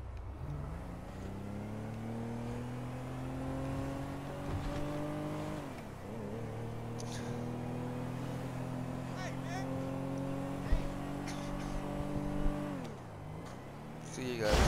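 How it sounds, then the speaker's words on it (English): Video game car engine drones and revs steadily, its pitch climbing through gear shifts and dipping twice as it drives, with a person speaking over it at times. "just driving myself to Los Angeles Customs"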